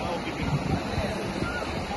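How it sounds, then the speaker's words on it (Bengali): Sea waves wash onto a Goa beach in a steady, rushing roar, close and loud with gusty wind buffeting the microphone throughout. "শুনো না সমুদ্র"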